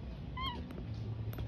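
A cat meows once, a short rising-and-falling call heard close by over a steady low background hum.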